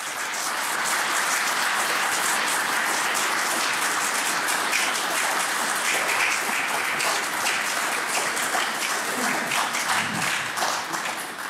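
Audience applause at the close of a studio talk show on Nova24TV, a dense, sustained clapping from a crowd that fills the whole stretch at an even, loud level.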